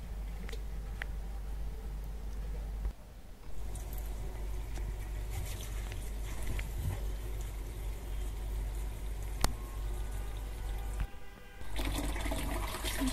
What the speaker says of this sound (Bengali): শাকগুলো ভালো করে ধুয়ে নিচ্ছি।